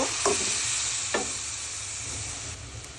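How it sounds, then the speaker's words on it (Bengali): Spice paste of ginger and cumin in oil, sizzling steadily in a pan just after a little water goes in, with a couple of soft stirring scrapes over a constant hiss. "এখন আমি মশলা কষানোর জন্য অল্প পরিমাণে একটু পানি দিয়ে দিব"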